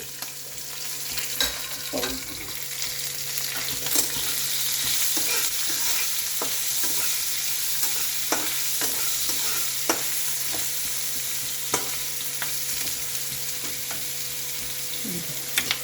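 Chopped ginger sizzles steadily in a hot pan while a utensil scrapes and taps against the metal in irregular strokes, close and fairly loud, with no talking.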